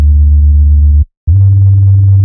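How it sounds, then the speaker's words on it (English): A Phase Plant synth bass with saturation distortion plays two sustained low notes with a brief gap between them, loud and buzzy with rich harmonics, alone without voices. "first thing I like to do is we throw some distortion on there, and that's going to be saturation"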